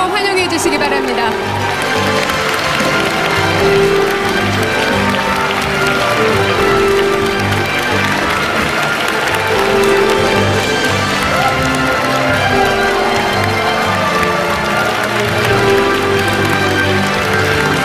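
An audience at a public event in Korea gives President Moon Jae-in a warm welcome, sustained dense clapping and crowd noise continuing throughout, with a host's voice speaking over it.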